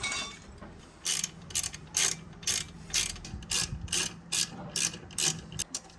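A ratchet wrench clicks in quick rhythmic bursts as bolts are tightened on the strut assembly of a 2008 Kia Sportage, close and fairly loud with no talk.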